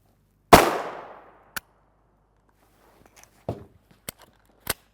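A 9x19mm pistol fires a 124-grain FMJ round, one loud, close, sharp crack with a decaying echo, followed by smaller clicks and clacks of handling the gun.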